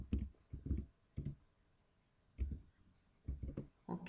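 Computer keyboard typing while writing Visual Basic 2010 code, short clusters of soft clicks in irregular bursts with quiet gaps between them, close and fairly faint.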